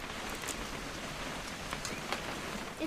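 Steady rain pours down in the video game What Remains of Edith Finch, a dense, even hiss of falling water with scattered sharper drops, continuous and alone throughout.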